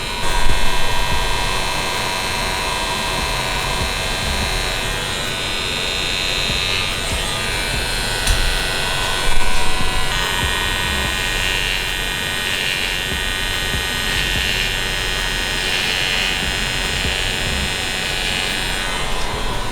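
Electric hair clippers lining up the edges of a 360 wave haircut, a steady buzzing drone running close and continuous throughout with small bumps in level and no talking.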